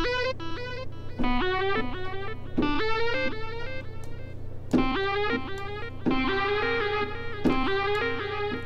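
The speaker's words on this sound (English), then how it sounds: "So we could send a delay to it." A bright synth melody in Ableton Live plays in repeating phrases, each note trailing into echoing delay repeats that fade behind it, steady and loud with no voices.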